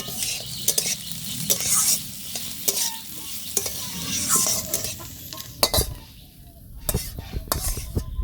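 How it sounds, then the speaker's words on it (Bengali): Bitter gourd frying in a pan as prawns are added, a steady sizzle with scraping stirs and occasional metal clinks, close and fairly loud, no one speaking. "উচ্ছালু ভাজা হয়ে গেছে চিংড়ি মাছ দিয়ে দেবো এবার"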